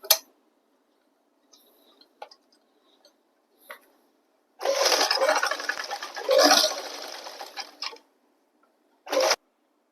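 A sewing machine top-stitches along a handbag with an attached chain, running in a close, buzzing burst of about three seconds and then a shorter one, between scattered ticks and clicks in an otherwise quiet room.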